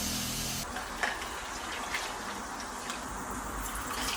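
Fresh water pours into a pot over washed quinoa, a steady close gushing wash with a few small splashes, shifting slightly partway through as the flow continues.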